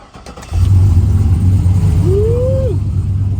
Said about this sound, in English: Well, let's see what a cold start sounds like.